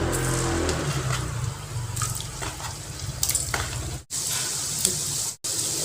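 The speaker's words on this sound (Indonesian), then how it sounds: "Nah, sekarang kita goreng ya. Dan ini minyaknya jangan terlalu panas, dengan api sedang aja." Twisted sweet dough snacks (kue tambang) deep-frying in oil over medium heat, a steady crackling sizzle with bursts of bubbling and faint stirring, no talk.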